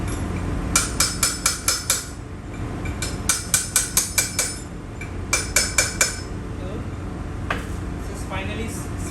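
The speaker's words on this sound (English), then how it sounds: "a little bit of tapping." A hammer taps a bearing down onto a horizontal shaft in a workshop, with bright metallic clinks falling in three quick bursts of four to six strikes each, over a low steady background hum.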